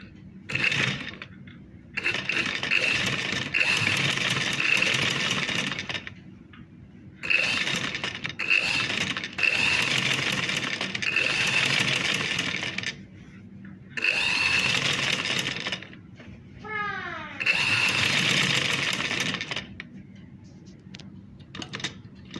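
A sewing machine stitches a dress in bursts of steady whirring, stopping for pauses in between, with a short ratcheting sound near the end as the fabric is turned.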